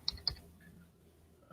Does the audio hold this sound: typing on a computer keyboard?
yes